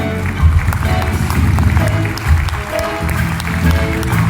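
A theatre audience at a live show in Bardolino applauds the sound crew: dense, steady clapping from a large crowd that fills the hall and holds at an even, loud level for several seconds, with a low tonal rumble beneath.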